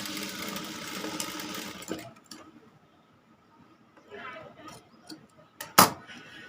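A sewing machine stitching cross pieces for thread hangings whirs steadily for about two seconds, then goes quiet, followed by a few small clicks and a sharp knock near the end.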